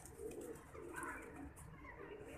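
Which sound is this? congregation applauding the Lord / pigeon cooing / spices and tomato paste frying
pigeon cooing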